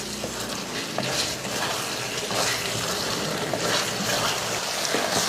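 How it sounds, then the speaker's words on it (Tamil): Chicken coated in ground spice paste sautés in an oily pan, with a steady close sizzle and scraping stirs repeating every second or so throughout. "பேஸ்ட் போட்டதுக்கப்புறமா ஒரு 2 நிமிஷத்துக்கு வதக்கி விட்டுக்கோங்க."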